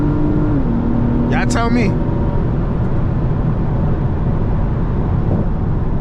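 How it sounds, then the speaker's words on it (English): Steady engine drone heard from inside a closed Acura TLX Type S fitted with a PRL high-flow air filter, with a brief tone shift as the revs change; someone speaks a few words over it. "That was me revving it out with the windows fully up"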